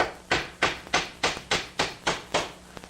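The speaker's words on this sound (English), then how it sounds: "I'll go ahead and put a nail in this one." A hammer drives a nail into a small wooden kayak frame with nine steady, evenly spaced blows. Each strike is sharp and close, and there is no talking.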